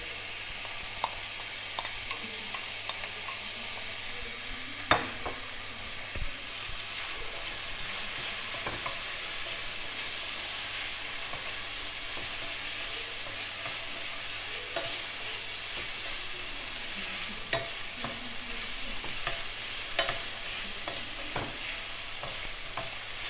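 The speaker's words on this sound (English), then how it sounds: "And I'm also going to add in the smoked herring." Smoked herring fries and sizzles in a pan, stirred now and then with scraping clicks, a steady crackle that runs throughout with no talking.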